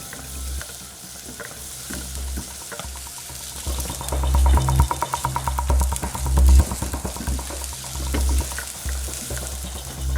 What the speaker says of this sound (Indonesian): Waktu dia udah panas, kita tumis dulu bumbu-bumbunya. Jadi ada bawang bombay dan juga bawang merah